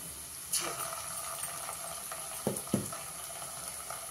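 Onions with a little ginger paste sizzle in a hot pan, a soft steady frying hiss with a few sharp metallic spatula clinks as the mixture is stirred.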